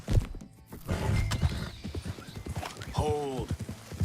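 In the Red Dead Redemption 2 video game, horse hooves clip-clop close by at a steady walk, and a horse gives a loud whinny partway through. Game voices are faintly heard under the sounds.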